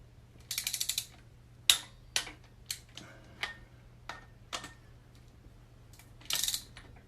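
A ratcheting wrench clicks while torquing bolts on an EJ25 engine build, with quick ratchet bursts followed by separate single clicks and a final rapid burst, faint against a low steady hum and no talking.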